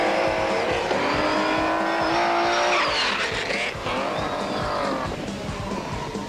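BMW rally car thrown sideways through a short super special stage at the 1999 Rally of South Africa, engine roaring loud and continuous with tyres squealing and skidding as it slides past, revs rising and falling.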